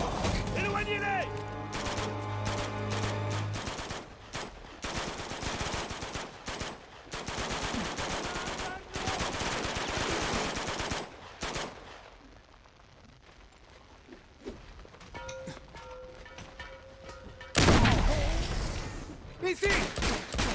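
Gunfire in the video game Uncharted 2, dense bursts of automatic fire and scattered shots over several seconds, loud and close, with voices shouting between volleys and a sharp blast near the end.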